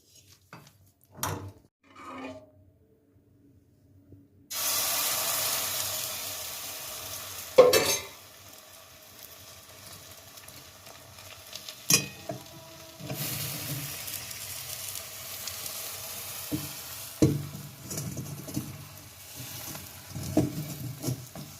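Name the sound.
batter frying in oiled pan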